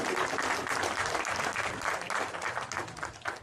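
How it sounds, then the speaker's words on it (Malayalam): An audience at a stage show claps in a continuous, dense round of applause that swells and then tapers slightly, heard at a moderate distance. "കൈയടി."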